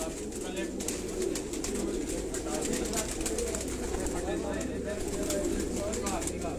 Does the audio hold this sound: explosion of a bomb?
no